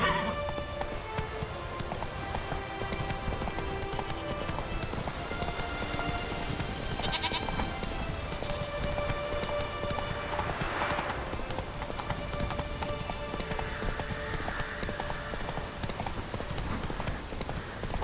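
Roach the horse gallops in The Witcher 3, a steady clip-clop of hooves drumming without a break, close and clear over a continuous bed of game ambience and music.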